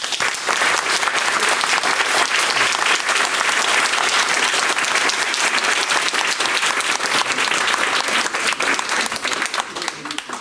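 Sustained, dense audience applause fills a political campaign meeting for cantonal elections in Chécy, clapping loud and steady throughout with a faint crowd murmur beneath.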